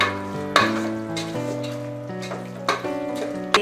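Homemade masala powder is stirred into a frying chicken curry base, with a steady sizzle and a few soft scraping stirs over a bed of sustained tonal background sound.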